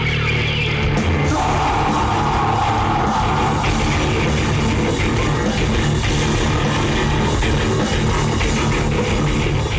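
Heavy metal rock concert at the sixth Demonic Concert in Thailand: dense, loud, continuous band wash with distorted instruments and yelled vocals throughout, crowd noise mixed in.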